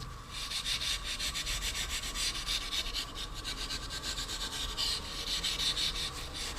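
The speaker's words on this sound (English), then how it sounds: "I'm going to just give them a wee touch with a wire wool." Wire wool rubs steadily over badly rusted bicycle parts from a Castello Vetto bicycle, making a continuous quick scratchy scrubbing that is close, fairly quiet, and without talk.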